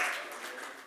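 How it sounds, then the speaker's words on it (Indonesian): A church congregation applauds at a Sunday service in Perth, a soft, diffuse wash of many hands clapping together that fades slightly over under a second, fairly distant and quiet. "Berikan tepuk tangan buat Tuhan kita"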